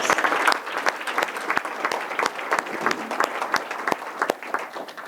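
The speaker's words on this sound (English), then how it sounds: "Let's give these people a round of applause." Audience applause fills a luncheon room for Rancho Cordova's mayor, a dense, steady patter of many hands clapping close by, sustained for several seconds without any talk over it.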